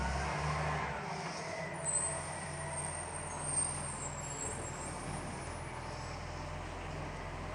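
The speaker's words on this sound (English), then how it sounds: "Other noise is the garbage truck." Distant garbage truck rumbles faintly outdoors with a low steady engine drone and occasional hissing, air-brake-like bursts, no talk over it.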